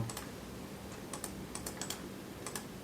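Quick, soft clicks of a computer keyboard as a command is typed in a networking lab, a steady patter of keystrokes up close with no voices.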